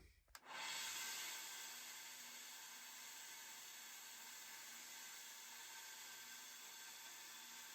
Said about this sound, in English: put a little dome on it with the belt sander